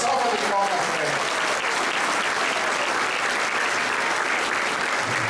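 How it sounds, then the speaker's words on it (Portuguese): A crowd at a political party gathering applauds the secretaries, a loud, sustained roar of many hands clapping that runs evenly throughout, with a voice briefly heard at the start. "Uma salva de palmas para eles."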